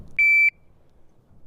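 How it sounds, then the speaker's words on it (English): A single short electronic shot-timer buzzer beep at a shooting range, sharp and loud, sounds once and then stops, leaving quiet background noise. "I just hit the buzzer."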